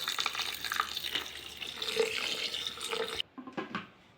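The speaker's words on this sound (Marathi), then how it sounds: "बघा आता आम्ही याच्यात पाणी टाकून घेत आहे।" Water is poured into a mixer jar of pomegranate juice: a steady, close splashing stream runs for about three seconds, then stops abruptly, followed by a few light knocks.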